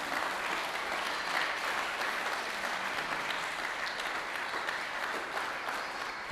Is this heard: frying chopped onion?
no